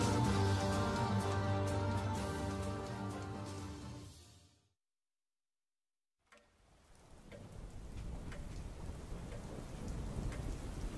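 Steady rain falling on a surface with rumbling thunder, loud and full at first, cutting to silence for about two seconds, then returning as a softer, hissing downpour with low rumble.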